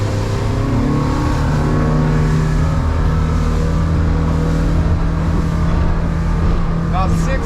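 A 2021 North River 27 Seahawk OS boat runs on a single Yamaha F200 four-stroke outboard with the other shut off, giving a loud, steady engine drone with water and wind noise throughout.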